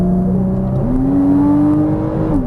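A Porsche Cayman S engine pulling hard under throttle on a race track, a loud close droning note climbing in pitch through the rev range, with no talk over it.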